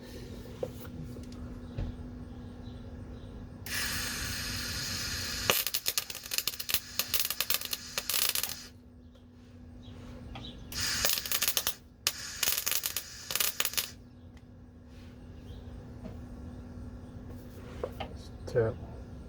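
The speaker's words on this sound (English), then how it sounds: "forgot to turn the CO2 on. Okay, this will make it a little cleaner weld." MIG welding with CO2 shielding gas on the body of a 1970 VW Beetle, heard as loud crackling, sizzling bursts separated by quieter pauses, with a voice speaking in places.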